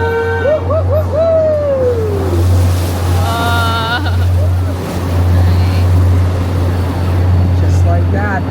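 An amphibious duck boat tour vehicle in Boston drives into the water, its steady engine drone running throughout, with water and wind noise around it and people whooping and talking over it.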